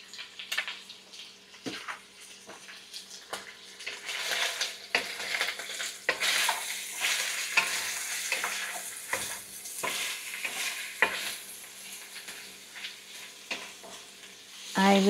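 Onion fries in a pan with a continuous sizzle while a utensil stirs and scrapes through it in irregular strokes, with no talking.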